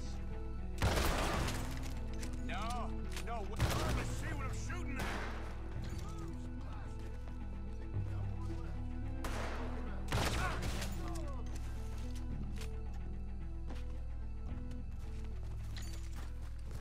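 Gunfire in Red Dead Redemption 2 rings out in a few sharp, loud shots spaced apart, over a steady bed of game ambience and music.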